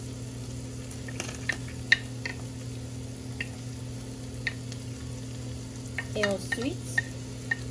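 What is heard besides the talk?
stirring vegetables frying in a pan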